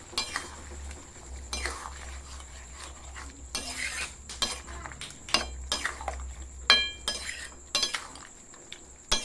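Potatoes being stirred into a chilli potato mixture in a pan, with repeated scraping and clinking of a utensil against the pan in an irregular rhythm over a low, steady background hum and faint sizzle.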